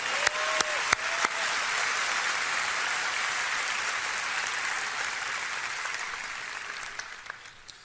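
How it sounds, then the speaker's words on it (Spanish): An audience at a conference talk breaks into applause, starting with a few sharp individual claps that swell into a sustained, even wash of clapping, gradually thinning toward the end with scattered claps. "Un aplauso."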